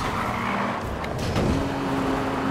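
Supercar engines race past in Need for Speed Rivals, a McLaren and a Ferrari 599 among them, with a steady roaring drone, a shifting tone midway and a faint tire squeal.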